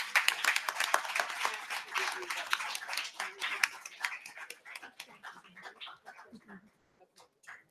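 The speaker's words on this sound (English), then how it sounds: "Let's give them a big applause." Applause for a panel at a women's climate justice gathering: distinct individual claps, loud at first, then thinning into scattered claps, with voices and cheers mixed in and talk continuing as the clapping dies away.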